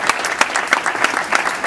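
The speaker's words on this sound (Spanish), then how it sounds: "Esa entrega que merece ese aplauso" Audience applause at the Borumballa awards ceremony, a brief burst of dense, steady clapping from a crowd, loud and close with no voices over it.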